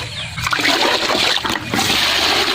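Water pours steadily into a bucket to mix cucumber fertilizer outdoors, a loud, close, continuous splashing gush with brief surges and no talking.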